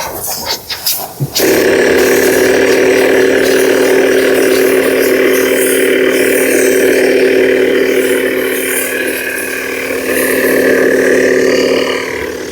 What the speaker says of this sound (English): Another thing you will notice is that this takes a while for the pump to kick in